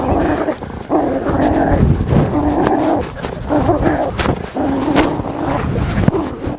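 A police K9 dog barks and growls in rapid, harsh bursts during a bite-training attack in an open field, loud and close, with continuous snarling between barks and some scuffling.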